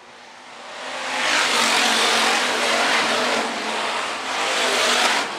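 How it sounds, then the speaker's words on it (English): Hobby stock race cars roar around the Phillips County Raceway dirt track, a loud, sustained wash of engines swelling as the pack passes and holding steady throughout, with no voices. "The 20T of Tanner Clough trying to make his way to the front"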